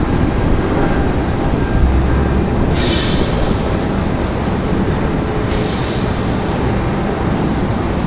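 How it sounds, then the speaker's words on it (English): A JetBlue Airbus A220 departs with a constant, loud jet roar and wind-like rumble, steady throughout with a brief hiss partway in. "rapid fire departure here for A220s"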